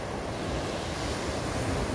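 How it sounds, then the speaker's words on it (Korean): Waves roll onto an empty sandy beach on the winter sea at Sokcho, a steady broadband surf wash with some wind noise across the microphone, continuous and fairly close, with no voices. "파도 소리 들으면서 쭉 직진 밥 먹으러 갑니다."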